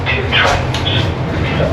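Dubai metro train pulling into a station, a loud steady rumble with hissing, squealing tones, heard from close by on the platform.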